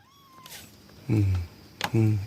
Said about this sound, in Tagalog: Bagong pusa na naman.